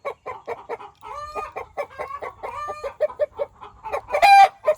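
Chickens cluck loudly and repeatedly in an excited, rhythmic chorus after a hen lays an egg, rising into a sharp, drawn-out squawk near the end.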